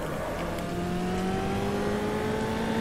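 A car in a racing video game laps a stop-start race track, its engine a steady rising whine with gear-like pitch climbs, continuous and fairly prominent, with no speech.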